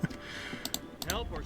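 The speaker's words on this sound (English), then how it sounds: "I apologize if you hear my mouse clicking." Computer mouse clicks ticking sharply and quickly while playing the game Torchlight, close and fairly quiet, mixed with keyboard-like tapping and soft background game sound.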